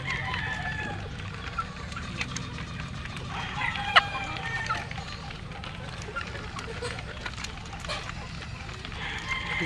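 Young pullet chickens in a range area cluck and call in a steady, moderately close chorus, with a voice heard over them.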